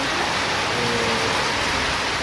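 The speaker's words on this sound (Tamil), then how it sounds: "மழை பயங்கரமான மழை பெஞ்சிட்ருக்கு" Heavy rain pours steadily in a village in Tamil Nadu, a dense, even hiss of downpour that stays loud and unbroken throughout, with no voices.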